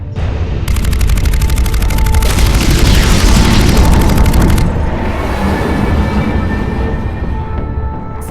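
Starship weapons in the Mass Effect 2 video game fire in a loud, dense barrage of booming blasts and rapid bursts, sustained for several seconds before easing into a lower rumble.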